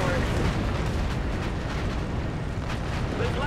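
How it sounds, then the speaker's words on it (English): A massive tower detonation in Call of Duty: Infinite Warfare rumbles as a sustained, loud eruption with crackling bursts and booms rolling through the whole stretch, with faint voices mixed under the blast. "Let's get visual on that tower detonation."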